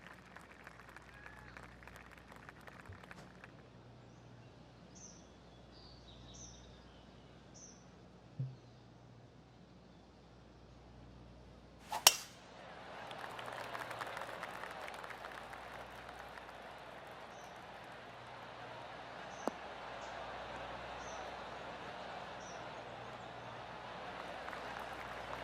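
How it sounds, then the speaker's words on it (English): Spectators at the Genesis Invitational golf tournament give a soft, spread-out round of clapping after a tee shot, rising from a quiet course with birdsong and a sharp club strike just before. "Oh, golf clap"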